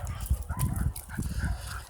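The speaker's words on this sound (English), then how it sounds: "Oh my God, these dogs keep chasing me." Several dogs encountered on a walk, yipping and barking in short repeated bursts at fairly close range, with some whimpering mixed in among scuffling movement.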